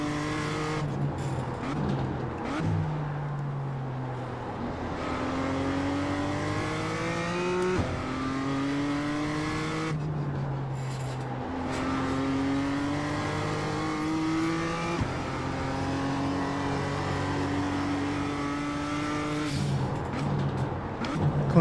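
A BMW M2 racing around Tsukuba in a driving game, its engine climbing through the revs and dropping on upshifts again and again, steady and close.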